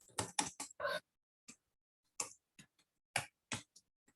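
Typing on a computer keyboard, a few quick clustered key clicks followed by sparse single taps, close and distinct with silence between.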